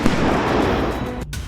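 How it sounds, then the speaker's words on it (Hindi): A US strike on al-Shabaab in Somalia produces a loud, dense roar of explosion that rumbles continuously, then cuts off abruptly near the end before a faint tail. "धमाका अफ्रीका महाद्वीप के सोमालिया में हो रहा है।"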